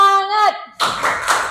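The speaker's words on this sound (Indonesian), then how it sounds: "Tepuk semangat." A group performs a rhythmic cheer clap in a classroom-style session, a short burst of hand claps following a sung voice, with a few distinct accented claps near the end.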